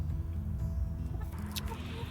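Hens in a backyard chicken coop cluck softly at close range, with a low murmuring flock sound throughout and a brief sharper squawk near the end.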